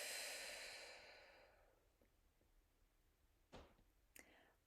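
A single deep, slow exhalation, close and breathy, fading out over a couple of seconds and followed by faint clicks and soft breath sounds.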